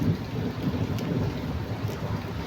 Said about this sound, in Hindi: तो अभी ना बारिश हो रही है बहुत तेज।